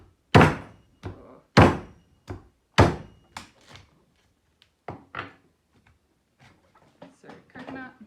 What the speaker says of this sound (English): So when opening a coconut with a cleaver, you want to use the bottom part of the blade.